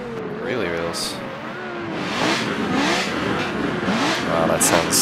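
A race car engine in Forza Motorsport 7 revs and climbs through gears in repeated vroom bursts, loud and close, with talking mixed in.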